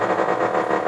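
Atari Sprint 2 arcade racer engine in second gear, a loud, continuous synthetic buzz with a slight rhythmic pulsing and no voices over it.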